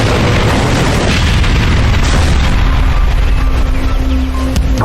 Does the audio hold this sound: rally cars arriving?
no